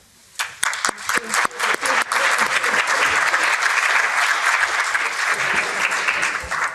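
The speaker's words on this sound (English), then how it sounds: "Would you please give a round of applause for Isabelle Rondeau." An audience at a conference breaks into applause, starting with a few scattered claps that quickly swell into steady, full clapping that holds to the end.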